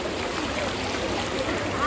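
A strong monsoon stream near Mumbai rushes forcefully past in a dense, steady roar of flowing water, loud and continuous over the brief moment.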